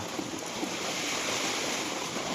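Strong typhoon wind gusts roar steadily in a constant broadband rush, loud and close, with buffeting noise on the microphone throughout and no voices.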